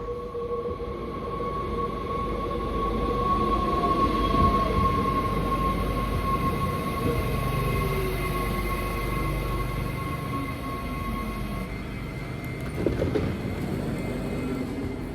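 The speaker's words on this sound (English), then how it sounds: "We just got on the first train out of Rotterdam" Riding aboard an early-morning Mat'64 passenger train departing Rotterdam, the steady low rumble of wheels on rails fills the cabin continuously, with a faint tonal whine overhead and a brief clatter near the end.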